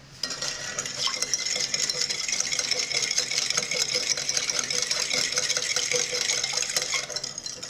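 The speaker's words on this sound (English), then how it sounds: "I'm gonna whisk this together" A whisk beats ingredients together in a bowl, a continuous rapid metallic clatter that runs evenly and close for several seconds with no talking.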